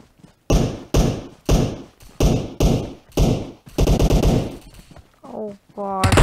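Loud, evenly spaced gunshots crack in the battle royale game PUBG, about seven single shots in steady rhythm followed by a fast automatic burst, with a voice speaking near the end.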